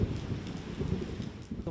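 Heavy rain pours down during a thunderstorm in Mauritius, making a dense, continuous hiss with low rumbling underneath. It is fairly loud and has no voices over it.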